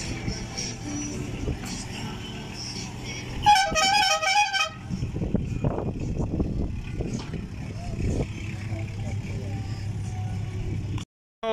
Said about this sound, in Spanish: va a tocar bocina